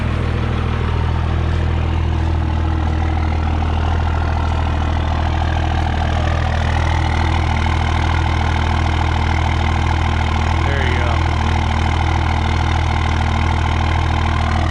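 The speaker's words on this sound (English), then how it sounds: "Best sounding diesel out there in my opinion." A 24-valve Cummins diesel in a 2001 Ram 3500 idles steadily just after a cold start, a loud, constant low rumble with a rough mechanical clatter throughout and no talking.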